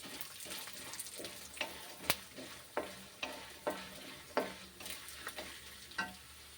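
Urad dal and moong dal dry-roasting in a pan on the stove, a soft steady rustle broken by sharp spoon scrapes and clinks at an even stirring rhythm, close and fairly quiet.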